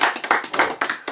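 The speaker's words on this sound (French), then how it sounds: "on peut l'applaudir" A few people clap by hand, close to the microphone, in quick uneven bursts. The claps fall in loose clusters with brief gaps between them.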